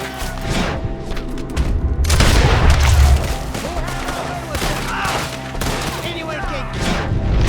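Gunfire crackles through a Red Dead Redemption 2 shootout, with dense volleys and heavy booming shots that swell mid-clip and continue steadily, loud and close, with no voices.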